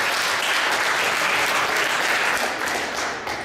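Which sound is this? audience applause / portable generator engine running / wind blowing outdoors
audience applause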